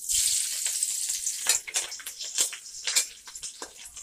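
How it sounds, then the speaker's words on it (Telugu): Chillies fry in hot oil in a kadai while chicken noodles are being cooked, a close, bright sizzle that crackles and spits in uneven bursts, loudest at the start and pulsing as the pieces are moved. "ఆయిల్ మరిగాక చిల్లీస్ యాడ్ చేసుకుందాం"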